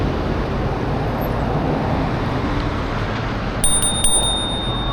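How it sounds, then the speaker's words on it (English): An e-bike's bicycle bell rings a few quick times near the end, bright and close, over steady road and traffic noise during a commute home. "Ring my bell at him."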